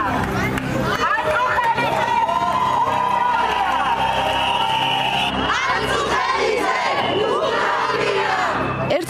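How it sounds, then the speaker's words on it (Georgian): A crowd of protesters shouts and jeers at departing parliamentary deputies, a loud continuous mass of overlapping voices with yells rising and falling throughout. "ივანიშვილის სხვა დეპუტატები აქციის მონაწილეებმა შეძახილებით გააცილეს"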